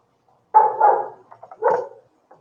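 A female dog barks and whines nearby, two drawn-out bark-whimpers followed by a few short yips and a final bark, loud against a silent room.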